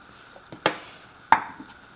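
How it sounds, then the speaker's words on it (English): A knife slices through a vanilla bean on a cutting surface, making two sharp, close taps about two-thirds of a second apart against faint background hiss. "Take your vanilla bean and slice it in the middle."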